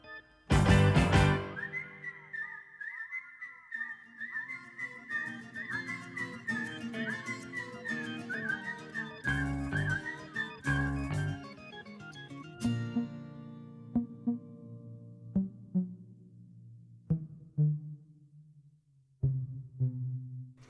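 A whistled melody in a strange, plaintive section of a musical piece, a steady wavering tune carried over sparse accompaniment, with sharp percussive hits and lower sustained tones joining toward the end, clear and close.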